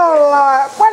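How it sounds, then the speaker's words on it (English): A dog whines and whimpers up close in one drawn-out, high, wavering cry that breaks into a short yelp at the end, with no other sound around it. "That's my dog."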